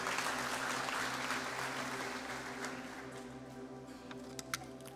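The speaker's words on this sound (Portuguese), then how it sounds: "Vamos aplaudir a palavra de Deus?" A church congregation applauds during a sermon, a broad wash of clapping that starts full and slowly thins and fades over a few seconds, heard at a moderate distance with no talk, closing with a few isolated claps.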